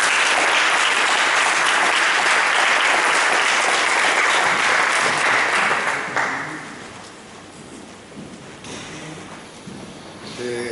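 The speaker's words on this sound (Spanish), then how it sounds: "Le damos un aplauso." A synagogue audience at the Gran Templo Paso applauds loudly to welcome a rabbi, the clapping holding strong and then thinning out and fading to scattered claps and murmur.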